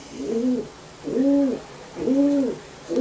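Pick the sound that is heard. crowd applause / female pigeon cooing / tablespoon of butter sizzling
female pigeon cooing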